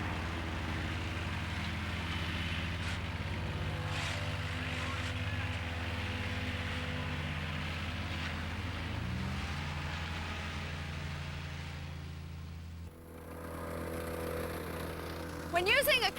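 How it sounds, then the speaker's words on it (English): A compactor engine runs at full throttle with a steady, loud mechanical drone. Near the end it cuts to a different, rougher running tone, and someone talks over it. "When using a compactor, there's a couple things you should know. Run it at full throttle."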